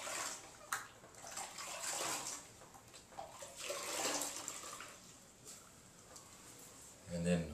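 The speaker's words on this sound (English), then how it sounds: "Rinse it out really well." Running water and splashing as a very wet sponge is rinsed out in a restroom remodel, a moderate steady gush with sloshes and occasional knocks, and a voice speaking over it.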